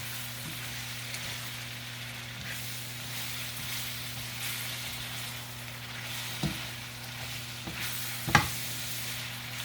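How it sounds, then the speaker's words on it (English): Vegetables sauté in a Cuisinart wok with a soft, even sizzle under a steady low electrical hum. Occasional light clicks and scrapes from stirring are heard, with one sharper knock near the end. No voices. "I'm just gonna saute this."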